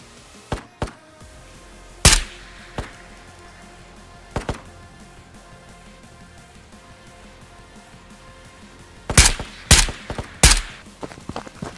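Scav gunfire in the Ghosts of Tabor VR game: scattered sharp shots, a few isolated cracks early on, then a tight burst of several loud reports near the end, with no talking.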